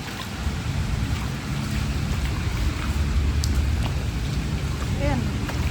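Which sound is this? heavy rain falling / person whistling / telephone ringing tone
heavy rain falling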